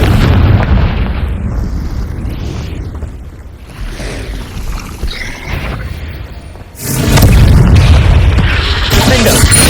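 Confringo fire spell in Hogwarts Legacy bursting with a heavy, loud boom that swells and rolls on, preceded by a rumbling blast; a voice casts the spell.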